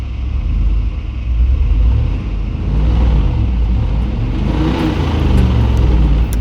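A pickup truck engine revs hard in four-high during an off-road truck pull contest, a loud, close, continuous low rumble and roar that swells slightly as the throttle rises.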